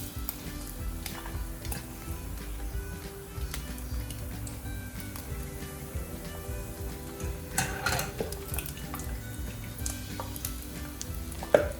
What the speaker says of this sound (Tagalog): Careful lang sa pagprito kasi may tendency na tumilamsik ang mantika.